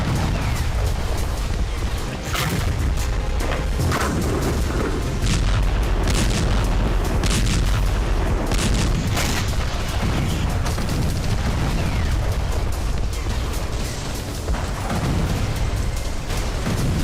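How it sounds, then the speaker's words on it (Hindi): Explosions from a rocket attack in Tel Aviv come as repeated loud booms and bursts over a dense, rumbling background, hitting at irregular intervals throughout. "कई जगहों पर धमाके हुए"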